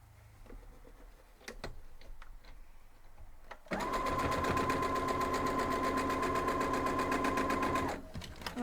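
A sewing machine stitching quilt blocks runs in one long, fast, even burst of rapid needle ticks for about four seconds, preceded by soft handling clicks and followed by quiet shuffling.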